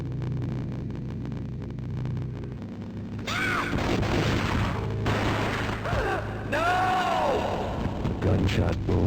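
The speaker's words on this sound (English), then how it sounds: "A gunshot boomed and she fell down in slow motion." A single heavy gunshot booms from the Game Boy Advance version of the Max Payne video game, landing sharply over steady low game music and followed by echoing, ringing tones.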